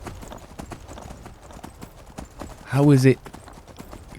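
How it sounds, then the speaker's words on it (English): Horse hooves in Skyrim clip-clop in a rapid galloping rhythm throughout, close and steady, with someone talking over them and a loud voice-like shout rising briefly near the end. "Run, horse, run!"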